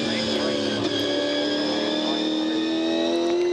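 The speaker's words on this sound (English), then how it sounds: "Lowndes was up the inside at Corporate Hill, slid the car by him, and then Jamie had to stay off the throttle" V8 Supercars race around the circuit at the 2014 SMSP 400, their engines droning and rising steadily in pitch under continuous race commentary.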